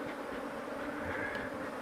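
Honey bees buzz around an opened hive in Rongai during a honey harvest, making a steady, dense hum that stays even throughout, soft to moderate and close, with no talking.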